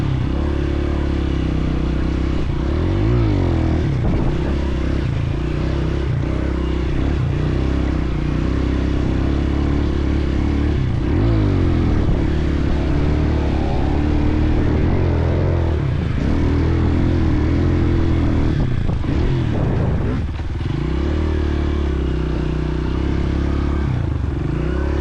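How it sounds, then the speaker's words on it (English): A dirt bike engine revs and bogs repeatedly while trail riding in woods near the top of a motocross track, the throttle rising and falling unevenly with clattering over rough ground, fairly close throughout. "We're taking Weston up to the top of the motocross track to a little spot in the woods to let him practice some trail riding"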